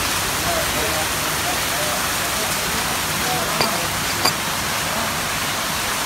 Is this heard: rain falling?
yes